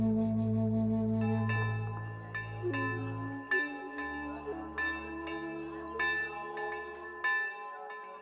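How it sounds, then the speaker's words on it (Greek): A church bell rings its morning call in Kato Polemidia, Cyprus, with a series of clear metallic strikes in an uneven rhythm, each ringing out and fading, following a sustained low tone that dies away. "Το πρωινό κάλεσμα της καμπάνας"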